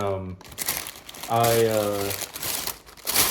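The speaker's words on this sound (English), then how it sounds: "Wrapping paper." Gift wrapping paper on a cute package tied with a little bow crinkles and rustles in close, crisp bursts, with a voice speaking between and over the crumpling.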